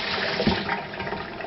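Hands being washed under a running tap in an outdoor grilling setting, a steady broadband water rush that lasts throughout, fairly close and alone without talk.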